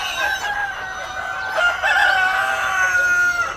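Parent-stock chickens on a poultry farm squawk and cluck loudly in an agitated chorus at an unfamiliar person, with overlapping calls throughout.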